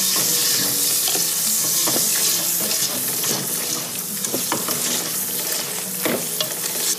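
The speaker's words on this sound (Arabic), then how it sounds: "قلي الطماطم تاعنا." Tomatoes fry in a pan while being stirred, a loud, steady sizzle with repeated scraping and clicking of the utensil throughout, with no talking.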